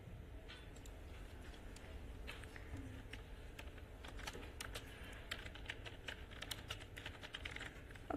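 Code is typed on a computer keyboard in a steady stream of soft clicking keystrokes, with bursts of quicker taps over a low room rumble.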